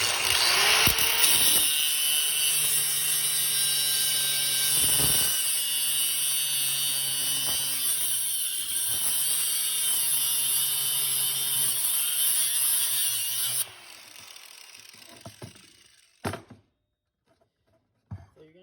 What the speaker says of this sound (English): I'm going to use a grinder because it goes quicker.